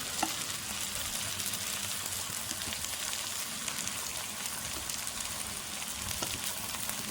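Ground spices fry in a pan for a spondias curry, a faint, even sizzle crackling steadily throughout with no talking.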